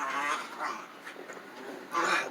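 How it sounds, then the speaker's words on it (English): A small pet dog makes soft whimpering, whining sounds in short bursts, fairly close and moderately loud, with a brief louder outburst near the end. "He is the smartest little dog"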